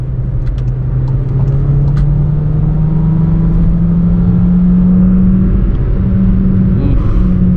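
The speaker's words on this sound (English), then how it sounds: "I'm gonna drop the gear and I'm just gonna gun it." A 2019 Volkswagen Jetta 1.4T accelerates hard in third gear, with a loud, close engine drone rising steadily in pitch over road rumble.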